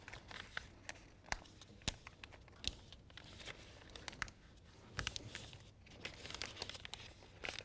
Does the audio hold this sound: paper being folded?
yes